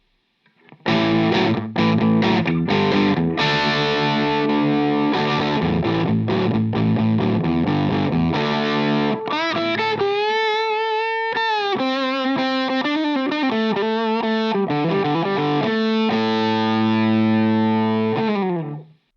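A heavily fuzzed electric guitar plays chords, then a wailing lead line with bends and sustained notes, loud and saturated throughout.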